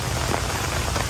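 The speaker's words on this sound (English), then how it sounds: "now we are filming in the rain" Steady rain falls around an umbrella outdoors, a dense, close hiss of drops pattering without break and no voices.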